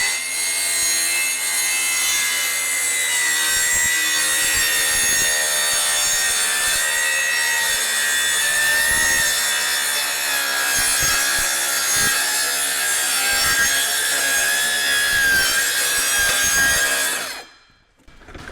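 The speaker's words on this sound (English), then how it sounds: "So we cut it, and you can see we just barely scored the wood." A saw cuts steadily through wood during a floor installation, a continuous loud rasping with a rhythmic stroke texture that runs alone for about seventeen seconds, then stops abruptly.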